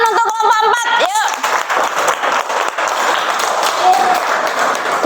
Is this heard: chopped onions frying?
no